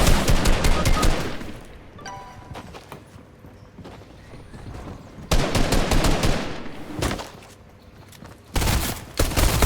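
Video game gunfire in Fortnite, dense bursts of rapid shots in loud clusters separated by quieter gaps, close and forceful, with no speech over it.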